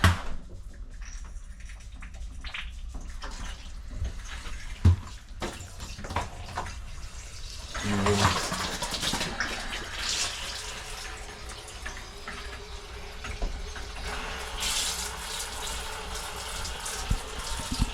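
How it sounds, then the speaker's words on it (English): A hot water tap runs steadily into a basin, a constant gushing hiss that thickens and brightens partway through, with a few small knocks and clatters along the way. "You just run the hot tap for a minimum of 3 minutes"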